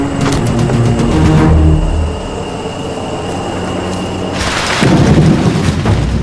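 Heavy rumbling thunder from a lightning strike rolls loudly, fades to a lower growl, then swells again with a sharp crackling burst near the end, in a Panama jungle during the rainy season.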